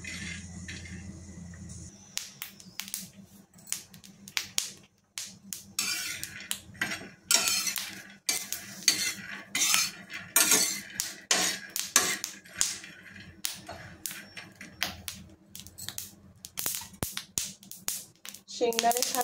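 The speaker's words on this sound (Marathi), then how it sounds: "शेंगदाणे छान भाजायला लागेल, बघू शकता कसे उडतायत।" Small peanuts are dry-roasted in a pan, a sparse tapping and clatter of nuts jumping and being stirred against the metal building into quick irregular clicks, close by, with a voice talking over parts of it.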